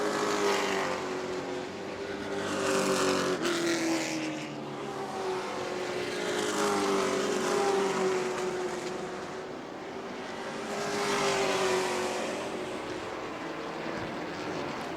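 Race cars circle a track at a New Smyrna summer race, engines droning at a distance with a sustained tone that swells as cars pass and then recedes.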